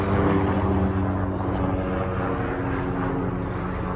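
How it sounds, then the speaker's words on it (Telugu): A helicopter passes overhead outside a Las Vegas apartment complex near the leasing office, a steady, loud rotor-and-engine drone that holds evenly for the whole stretch with no voices. "పైన ఒక హెలికాప్టర్ వెళ్తోంది"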